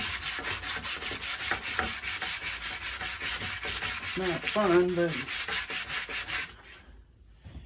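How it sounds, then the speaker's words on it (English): Wooden shell of a 1950s Slingerland snare drum being sanded by hand, a close, steady rasping in quick back-and-forth strokes, with someone briefly speaking before the sanding stops. "So let me keep sanding on this"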